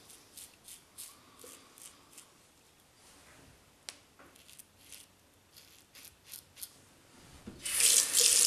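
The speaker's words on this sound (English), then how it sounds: "Right, rinse off, Paul, rinse off." A double-edge Yuma razor is rinsed under a running tap, with short splashes and taps against the sink giving way to a louder steady rush of water at the end, up close and without talking.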